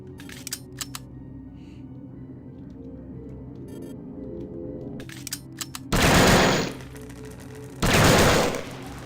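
A laser weapon fires in the video game System Shock 2, two loud, harsh bursts of about a second each, breaking through quieter in-game ambience and scattered clicks.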